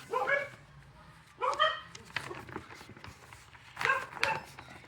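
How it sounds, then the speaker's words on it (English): Dogs woofing at a distance in a few separate bursts, each a short cluster of barks over steady background noise, with nobody talking. "And the dogs are woofing bloody things."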